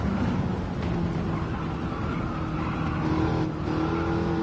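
Race car engine in Gran Turismo roars at high revs, steady and loud throughout, with a slight pitch shift near a gear change.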